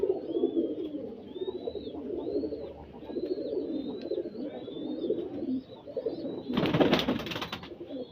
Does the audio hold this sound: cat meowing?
no